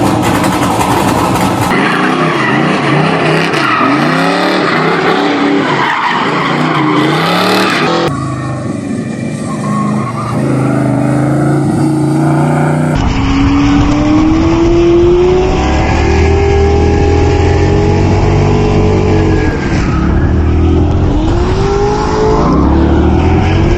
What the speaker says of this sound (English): This engine's probably been out of the truck for 12 years. I'm gonna see if I can fire it up here.